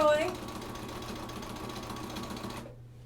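A sewing machine stitches binding onto a quilt, turning a tight corner: a steady, close mechanical whir runs for about two and a half seconds, then cuts off to near silence.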